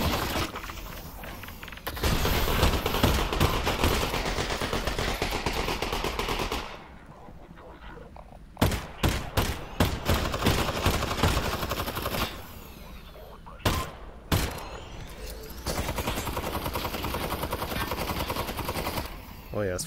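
Heavy automatic gunfire in Half-Life: Alyx, loud and close, with sustained bursts broken by pauses and sharp single shots, some shattering mixed in.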